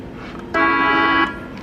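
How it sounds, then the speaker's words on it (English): A toy horn in a children's airport play cockpit gives one steady electronic honk lasting under a second, loud and alone against quiet room background. "It's the horn."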